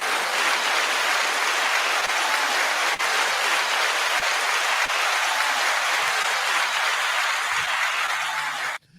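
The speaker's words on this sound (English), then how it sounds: "Give him a round of applause." Audience applause for a host introduced on a movie review show: dense, even clapping from a crowd, sustained loudly for about nine seconds before breaking off abruptly.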